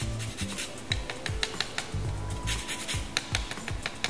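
A lemon rubbed against a zester for a small amount of zest, a series of short, close, dry scraping strokes in an uneven rhythm, fairly soft, with no talking.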